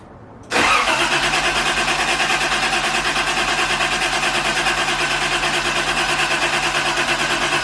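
A custom Datsun 280ZX cranks after a brief quiet moment, the starter motor churning in a fast, even rhythm for about seven seconds without the engine catching, loud and close, no voices.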